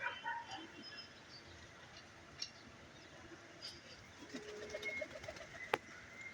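Soft pigeon coos sound in the background amid quiet ambience, with a few light ticks and a sharp click near the end.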